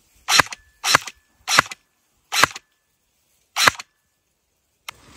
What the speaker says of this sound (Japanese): 収束特有の発射音になってます